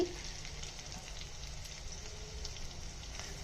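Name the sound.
tempering spices frying in oil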